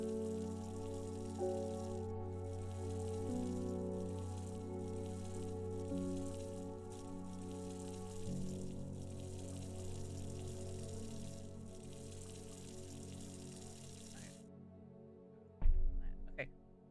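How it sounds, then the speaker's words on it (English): Watering a plant with a watering can in the video game Strange Horticulture: a steady, moderately loud pour of water runs continuously under background game music, then stops abruptly near the end with a brief clunk. "Where's my watering can? Let me water the plant."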